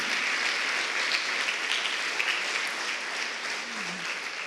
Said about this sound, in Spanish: Démosle un aplauso a Jesús por cada líder de reunión de salvación.